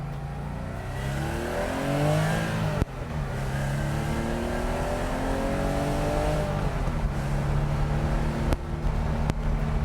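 A 1971 Porsche 911E flat-six revs hard and climbs through the gears, each pull rising in pitch before a brief drop at the shift, loud and close from inside the car with no talking.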